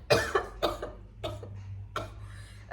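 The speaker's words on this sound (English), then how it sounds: "That's the second coughing fit I've had." A coughing fit close to the mic: several harsh, raspy coughs in quick bursts, pausing briefly between clusters.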